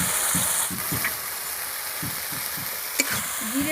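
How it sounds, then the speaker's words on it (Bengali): Turmeric, chilli powder and slit green chillies sizzle steadily in hot oil for an egg bhapa dish, with soft rhythmic stirring scrapes and one brief sharp clink near the end. "সব মশলাগুলো ভালো করে আমি কষিয়ে নেবো"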